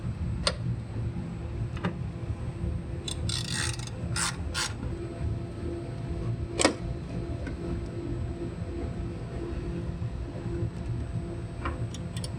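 A socket wrench with a long extension and a 10mm socket loosens a fender bolt on a 2015-2019 Cadillac Escalade, giving scattered ratcheting clicks over steady background noise, with no talking.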